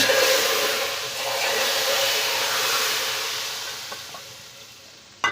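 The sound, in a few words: tempering spices sizzling in hot oil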